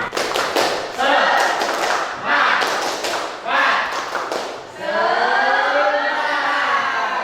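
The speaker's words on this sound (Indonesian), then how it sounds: "Kita coba tepuk semangat." Indonesian classroom students perform the 'tepuk semangat' clapping chant, bursts of group clapping in rhythmic patterns mixed with chanted voices, followed by a sustained sung or chanted phrase from the class.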